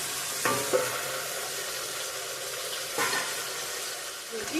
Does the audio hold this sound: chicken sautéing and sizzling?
yes